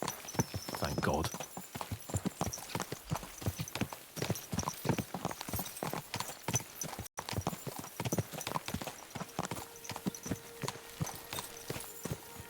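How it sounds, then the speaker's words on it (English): Horses galloping in Kingdom Come: Deliverance II, a rapid, steady clatter of hooves that runs close and loud throughout, with someone talking over it. "Let's really spur these horses on, eh?"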